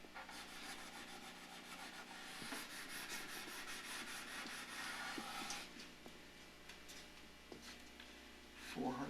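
Fine 400-grit sandpaper rubbing over a wooden instrument part in a luthier's workshop, a steady close scratchy friction with repeated strokes running throughout, alone without speech.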